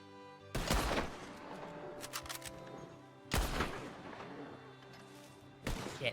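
Three loud, booming rifle shots spaced a few seconds apart during a hunt in Red Dead Redemption (RedM), each with a rolling echo, over quiet background music.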